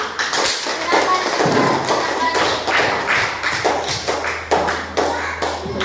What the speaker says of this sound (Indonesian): Tepuk tangan untuk kelompok auditori.